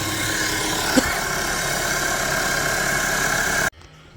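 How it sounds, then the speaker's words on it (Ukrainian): An engine cooling system flushing machine, used on a VW Passat B7 or Golf 7, runs with a steady engine-like hum and faint vibration, a brief knock near the start, then cuts off abruptly near the end. "Зараз йде промивочка е, двигуна вже на апараті."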